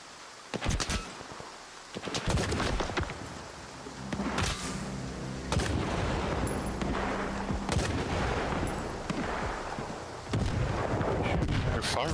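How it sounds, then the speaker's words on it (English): Repeated loud gunfire bursts and single shots crack across a STALKER 2 firefight, some near and some further off, with a steady rumble between the volleys. "They're firing at someone else."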